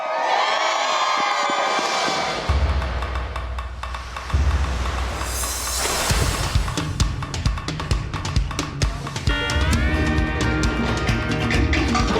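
A large crowd at a Texas home rebuild cheers and shouts in loud, sustained waves, with horn-like blasts and lively music mixed into the roar.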